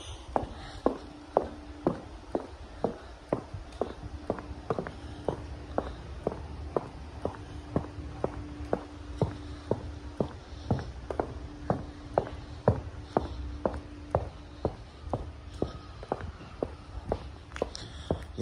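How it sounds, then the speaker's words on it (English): Footsteps walking toward a beach boardwalk, a steady even rhythm of close, crisp steps continuing throughout with a faint background hum and no talking. "Unless you just like hearing my footsteps."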